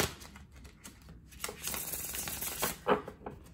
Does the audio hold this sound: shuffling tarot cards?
yes